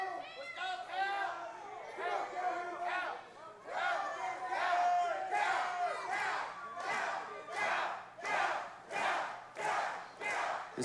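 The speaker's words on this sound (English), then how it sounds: "This crowd coming alive for their panty pack hero" Wrestling crowd at an OVW televised show chanting and cheering in rising waves, then settling into a rhythmic, pulsing chant of many voices.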